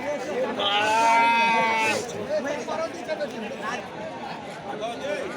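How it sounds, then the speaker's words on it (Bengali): A single loud, drawn-out bleat from a male goat rings out near the start at Rohanpur livestock market in Bangladesh, followed by murmuring voices and crowd chatter. "এখানে সব দেশি পাঠার কালেকশন, বিগ সাইজের পাঠা।"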